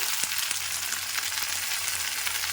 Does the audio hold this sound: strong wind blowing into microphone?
no